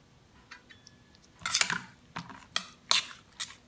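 Clinks and scrapes of a utensil stirring omelet mixture with noodles and diced cheese in a bowl, a few irregular close taps and strokes, no talking.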